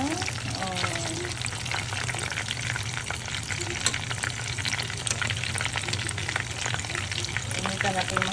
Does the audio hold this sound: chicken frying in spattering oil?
yes